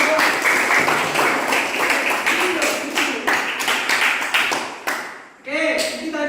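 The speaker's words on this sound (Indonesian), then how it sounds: "tepuk tangan untuk kelompok 2" A classroom group bursts into dense, close applause for several seconds; it thins out near the end as voices come in.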